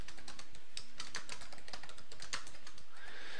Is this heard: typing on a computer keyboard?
yes